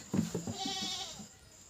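A goat gives a single wavering bleat, close and fairly quiet, in an otherwise calm setting.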